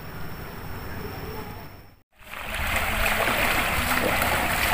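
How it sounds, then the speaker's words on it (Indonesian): Steady broadband rush of a river being crossed, continuous flowing water with splashing that briefly cuts out, then returns louder and closer. "alhamdulillah kita sudah melewati sungai"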